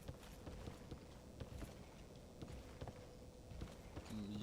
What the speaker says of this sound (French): Et j'entends des bruits de pas bizarres aussi.